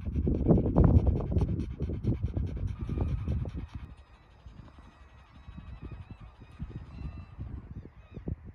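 A dog pants in quick, rhythmic breaths outdoors on a windy morning near a parked camper van, loud and close at first, then fading to softer, scattered panting.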